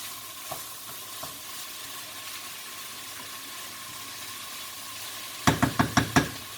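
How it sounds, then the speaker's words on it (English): Chicken skins fry in a pan with a soft continuous sizzle, a couple of faint taps early on, then a quick run of five or six sharp utensil knocks against the pan near the end. "I'm just taking out these chicken skins for now because they've actually fried up"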